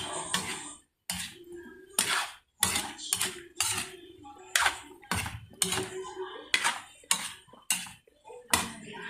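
Stirring food sautéing in a pan, with repeated scraping and clinking of a utensil against the pan in irregular strokes, close and clear, with occasional talk between them.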